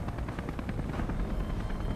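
A helicopter in the video game Beyond Two Souls drones with a steady, dense rotor chop and a low engine rumble, continuous and fairly close, with no talking over it.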